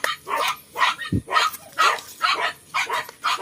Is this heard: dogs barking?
yes